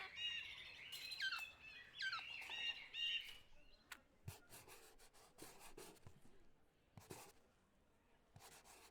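Golden oriole calling in the video game The Thaumaturge, a run of bright whistled and chirping phrases up close for the first few seconds, then scattered short rubbing and clicking sounds.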